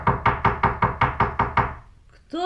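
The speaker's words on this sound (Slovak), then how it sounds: "Kto to klope?" About nine firm, evenly spaced knocks on a door in a children's audio fairy tale of Little Red Riding Hood, loud and close, then fading into a brief quiet before a new sound starts.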